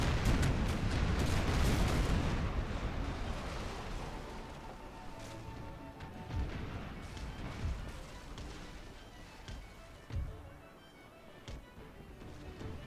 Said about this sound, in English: So right now we've got 3 broadsides posted at the enemy admiral.